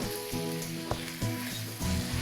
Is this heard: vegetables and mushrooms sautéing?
yes